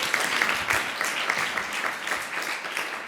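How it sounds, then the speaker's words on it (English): An audience at a community panel forum on Black liberation and the food movement applauds a panelist, with moderate, steady clapping and a few voices rising through it. "can we give a big Bay Area round of applause"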